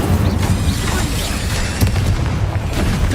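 A booming, roaring fire-spell blast from Hogwarts Legacy, a loud continuous burst of crackling combat noise with a heavy low rumble throughout.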